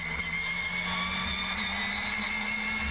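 Ginetta GT5 race cars race at Rockingham Speedway, a steady drone of engines at high revs, moderately distant and continuous without breaks.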